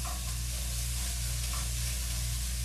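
Onions browning in a hot pan give off a steady, close sizzle with a soft hiss of frying that holds even throughout, and no one talks over it.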